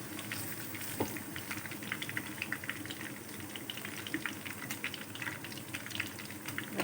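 Pakoras frying in oil in a kadhai over a slow flame, a steady close bubbling sizzle with scattered small pops and crackles throughout, no voices.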